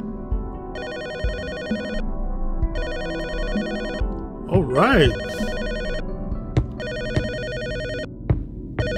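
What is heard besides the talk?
telephone ringing in video game Her Apartment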